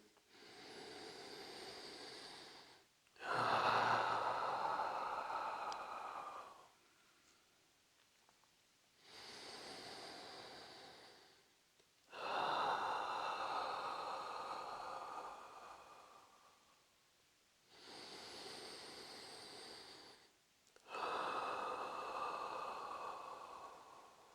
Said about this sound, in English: And just breathing deeply.